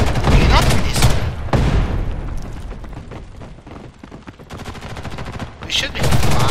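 Sustained gunfire in the shooter video game Ghost in the Shell First Assault, with dense rapid automatic bursts and heavy shots crackling loudly throughout, a few louder blasts near the start and end, and no clear talk over it.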